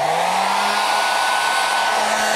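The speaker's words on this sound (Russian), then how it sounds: "Такие манипуляции я провожу обычно с помощью фена, чтобы не травмировать голову и не сломать шарнир." Hair dryer blowing steadily and loudly on a doll's head, a constant close whoosh with a faint rising motor whine.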